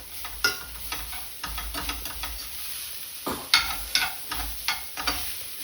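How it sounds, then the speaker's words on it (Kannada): Rice and vegetables are stir-fried over a high flame in a pan, with rhythmic spatula scrapes and knocks over a steady sizzle, close and alone with no talk. "ರೈಸ್ ಹಾಕಿ ಸ್ವಲ್ಪ ಫ್ಲೇಮ್ ಜಾಸ್ತಿ ಮಾಡಿಕೊಂಡು ಚೆನ್ನಾಗಿ ಮಿಕ್ಸ್ ಮಾಡಿಕೊಂಡ್ರೆ"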